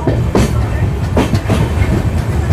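The Sairang Express rolls into Kamakhya Junction, a loud, steady rumble with repeated clickety-clack wheel beats over rail joints, heard from inside the carriage.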